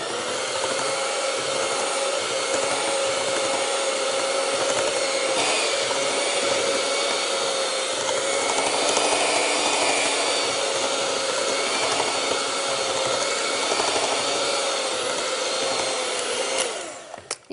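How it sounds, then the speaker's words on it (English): An electric mixer beats zucchini bread batter made with salt, cinnamon and vanilla, giving a loud, steady whir that runs unbroken for the whole stretch and cuts off abruptly at the end. "So now we're going to mix that up."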